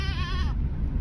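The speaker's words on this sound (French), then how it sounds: "On peut pas rouler à cause des chèvres sur la route." Goats on a road in Corsica give one wavering, harmonic bleat over the first half, loud and close, over a steady low rumble that continues after the call stops.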